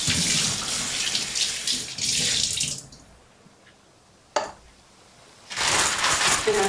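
Water is poured from a tap into a pan of frozen mixed berries on the stove, a steady splashing rush that stops, followed by a short clink and then another burst of running water.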